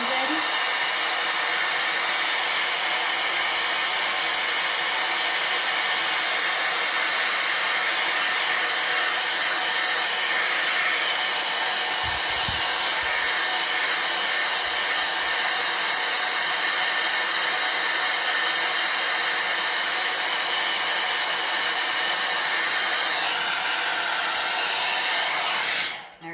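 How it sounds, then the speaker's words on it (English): A hair dryer blows on chalk paste in a crafting session, a loud, steady whooshing roar running unbroken for the whole stretch and cutting off at the end. "I'm going to get my hairdryer ready"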